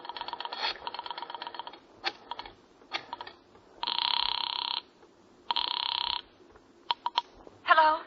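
Old-style telephone bell ringing in two long, loud bursts, preceded by clicking dial or keyboard-like taps and followed by short clicks as the receiver is handled, in a quiet radio drama scene.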